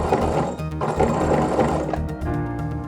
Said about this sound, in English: I like to sew off on a little scrap of fabric here